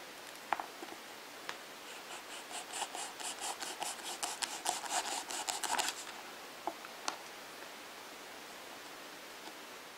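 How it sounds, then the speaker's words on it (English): A knife cuts through a wine cork, giving a run of quick rasping, scraping strokes in close succession for a few seconds, followed by a couple of isolated taps in an otherwise quiet room. "I will continue cutting up my cork until it is all cut up."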